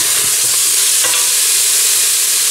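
Meat browns in a pan with herbs for a harira, giving a steady, loud, close sizzle throughout with faint stirring scrapes early on.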